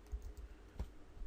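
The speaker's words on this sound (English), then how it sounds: "now I'm gonna type in the domain freedom training" A few quick, faint keystrokes on a computer keyboard while typing a domain name, soft irregular clicks over a quiet room.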